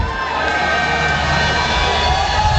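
A large cricket crowd in a Lahore stadium roars and cheers at a Pakistan versus Australia Test, a dense, steady wash of distant noise.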